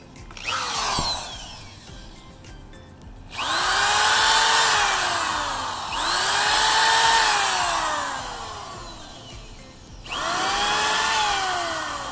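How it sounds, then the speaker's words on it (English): A power drill pre-drilling screw holes in wood whirs in three separate bursts, its pitch rising as the motor spins up and then sliding down as it slows, close and loud. "then I'm going to pre-drill these"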